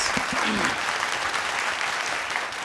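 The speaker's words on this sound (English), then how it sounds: "Can we have a round of applause for him, young friends?" Applause from a crowd of young quiz teams at a corporate quiz national final, steady and dense, with a brief voice at the start.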